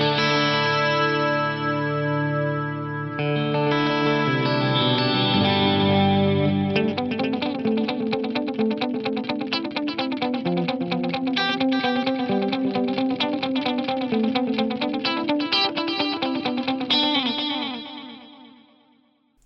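A sustained synth or keyboard passage through the Lexicon PCM81 chorus plus reverb algorithm, with lush swirling shimmer and a wide wash, shifting into rapid plucked-sounding repeated notes before fading out at the end.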